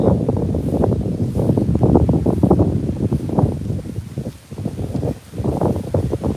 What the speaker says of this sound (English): you can't do nothing with the wind